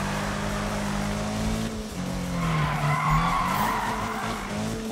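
A Subaru BRZ in the Need for Speed racing game skids under the handbrake, its tires squealing in a sustained slide with the engine droning steadily underneath.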